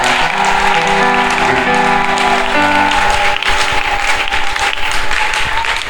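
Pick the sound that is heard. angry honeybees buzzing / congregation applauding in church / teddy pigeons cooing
congregation applauding in church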